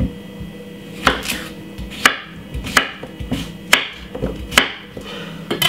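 A knife chops cucumber into small pieces on a cutting board in a home kitchen, about seven sharp, distinct knocks at an uneven rhythm, close and clear with a faint background hum and no talking.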